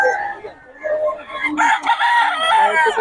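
A rooster crows loudly and close, one long drawn-out call with strained harmonics, with faint voices in the background.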